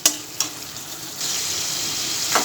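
Whole spices crackle and sizzle in hot oil for a Bengali banana-flower mochar ghonto, with a few sharp pops near the start and then a steady, bright frying hiss that stays close and loud through the end.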